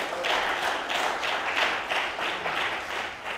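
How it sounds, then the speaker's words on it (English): A church congregation claps their hands in praise, a steady rhythmic run of roughly two claps per second, loud and even throughout with no voices over it. "clap your hands for Jesus"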